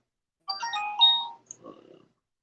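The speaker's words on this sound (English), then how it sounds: "Is that somebody's phone?" A mobile phone ringtone plays a short melodic phrase of bright tones for about a second and a half, followed by a softer trailing burst, fairly close and alone without talk.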